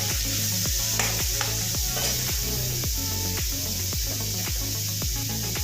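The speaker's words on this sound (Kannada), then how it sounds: "ಫ್ರೈ ಮಾಡ್ಕೊಳ್ಳೋಣ. ಈರುಳ್ಳಿ, ಹಸಿರು ಮೆಣಸಿನಕಾಯಿ," Onions and green chillies frying in a pan, a steady loud sizzle under a rhythmic clatter of stirring, roughly two strokes a second.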